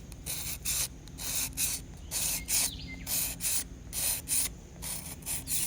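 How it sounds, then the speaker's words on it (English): Sandpaper rubbed by hand over a fuel caddy part, a rhythmic series of short scratchy strokes, close and fairly soft, repeating steadily without pause. "I'm letting the sandpaper do the work."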